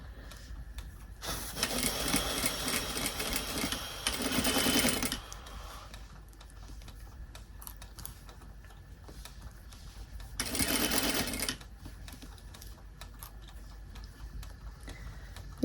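A sewing machine stitches a dress seam in two close bursts of fast, even whirring chatter, the first longer and the second brief, with quiet ticking room sound in the gaps.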